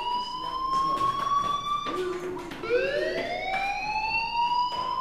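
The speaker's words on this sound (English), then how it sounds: "Hey, do you hear that fire alarm?" A school fire alarm wails in the video game Life is Strange, a loud continuous siren tone that dips and rises again, ringing steadily across the entire stretch.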